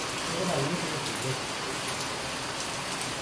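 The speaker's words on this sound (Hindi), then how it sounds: "तो गाइस बारिश हो गई है भयंकर वाली।" Heavy rain pours down outside a home, a constant, dense hiss of drops hitting surfaces that fills the whole stretch without letup.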